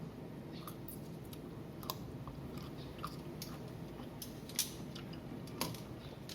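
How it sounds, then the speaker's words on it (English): Faint crisp crunching from biting cooked Baguio beans, a few scattered cracks and clicks over steady background noise, with no talking. "you can test any of these by just really biting on it."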